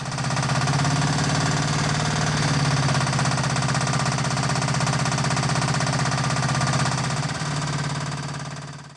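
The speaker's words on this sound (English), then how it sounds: "What I do is I lift the auger out of the hole every now and again and shake the dirt off it." A powered auger digs fence post holes, its engine droning loud and steady close by for several seconds before winding down at the end.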